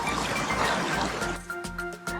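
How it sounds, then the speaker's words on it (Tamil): River water flows beside the path along Kuthiraipanjan waterfall in Kanyakumari, a steady close rushing and trickling wash that fills the whole clip. "பக்கத்துல தான் அந்த அருவியோட அந்த ஆறு போயிட்டு இருக்கு."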